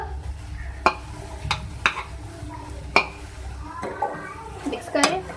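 Chicken and vegetable filling with carrots being stirred in a pan, with a soft sizzle and scattered clinks of a spoon against the pan over several seconds.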